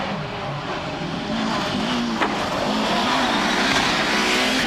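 A Lancia Delta Integrale rally car drives hard, its engine roaring steadily throughout with rising and falling tones as it shifts, plus a brief tire squeal, loud and close.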